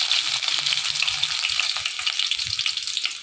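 Ginger garlic paste sizzles steadily in hot oil in a pan while cooking an egg fry, a dense, close crackling hiss that holds for a few seconds with no voices.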